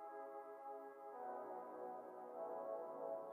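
Soft electric-piano keys in an Ableton afrobeat session, run through a drip plugin, play sustained chords that swell slightly partway through, steady and moderately loud with no talking.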